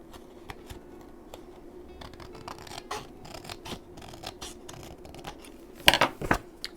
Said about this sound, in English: hand trim it, making sure I don't cut my tab off in the process